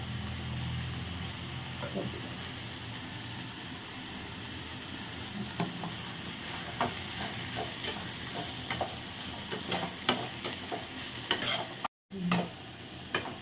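Leaves stirred and fried in an oil tempering, a quiet continuous sizzle broken by frequent small clicks and scrapes of a spoon against the pan, with no talking.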